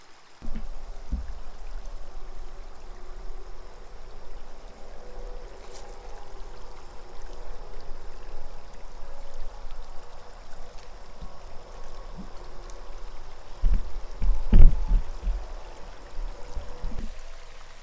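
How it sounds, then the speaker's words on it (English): Rainwater runs off an uphill slope on a farm in a steady stream, a continuous close rushing trickle through the whole stretch, with a few brief louder splashes and bumps near the end. "So any rain that we get, this is all uphill here. It just runs off the hill."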